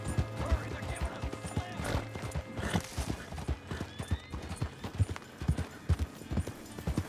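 Horse hooves pound in a steady galloping rhythm in the open-world western game Red Dead Redemption 2, close and prominent, with clattering tack and mechanical rattles mixed in and a player's voice talking intermittently over it.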